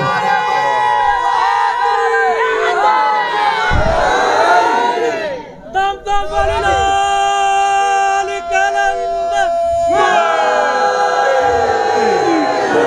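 A crowd at a religious gathering celebrating Mawlid of the Kaaba and Mawla Ali shouts a slogan in loud, repeated bursts, with cheering, a lone voice leading between chants and brief pauses.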